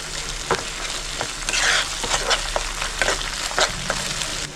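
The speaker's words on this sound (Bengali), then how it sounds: "এটাও আমি 1 থেকে 2 মিনিট ভালো করে মিক্স করে নেব, আদা আর রসুনের কাঁচা গন্ধটা চলে যাবে।" Ginger and garlic paste frying in a pan while being stirred, a soft continuous sizzle broken by irregular scrapes and taps of a spoon, close and moderately loud, no voices.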